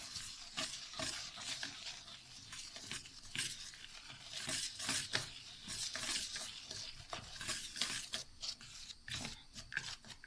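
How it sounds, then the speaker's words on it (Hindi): A spoon works through a bowl of peanuts, flour and yellow food colour for a peanut cake, giving close, steady scraping and stirring strokes with soft gritty rasps, no voices over it. "इन सब चीज़ों को अच्छे से मिक्स कर लेंगे।"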